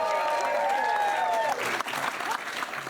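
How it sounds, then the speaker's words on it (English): Studio audience clapping on a comedy panel show, a brief burst of steady applause with whoops, starting under a fading musical sting. "Give them a round of applause."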